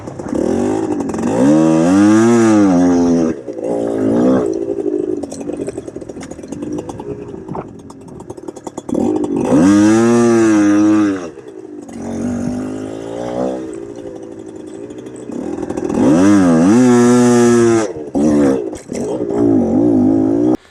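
Off-road motorcycle ridden hard around a field on the pipe, its engine surging through repeated loud revving climbs and drops, with three big full-throttle bursts separated by quieter throttle-off stretches.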